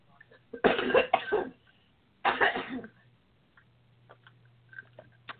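Two bursts of coughing close to the mic, the first a quick double cough, the second a single harsh cough, then quiet with faint clicks.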